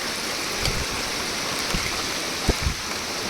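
Water rushing steadily in a small mountain stream being crossed during a rainy Himalayan trek, a constant broadband wash with a few brief nearby splashes or footsteps.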